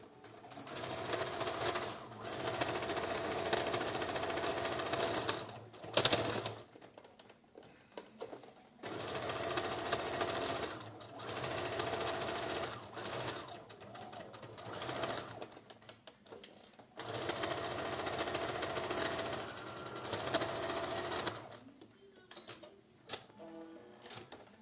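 A sewing machine stitches a patchwork sampler block in several long, even runs of rapid ticking stitches, fairly quiet and close, separated by brief silent gaps.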